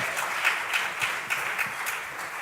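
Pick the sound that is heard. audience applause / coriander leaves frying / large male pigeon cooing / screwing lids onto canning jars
audience applause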